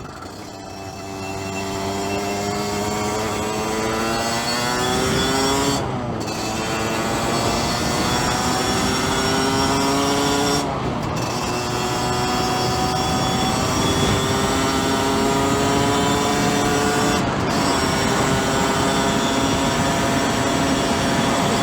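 Engine of a 2009 Aprilia RX50 motorcycle while riding, a loud continuous buzzing two-stroke drone with rising revs and brief dips at gear changes, close and steady throughout with no talk.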